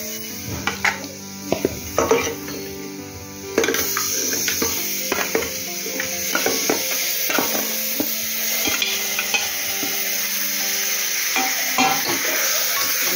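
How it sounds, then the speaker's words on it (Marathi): Mutton chunks fry in a spicy Malvani masala with Byadgi chilli powder over low heat, a steady loud sizzle with repeated scraping and clattering as the meat is stirred in the pan. "आता आपण हे मटण टाकू त्याच्यामध्ये"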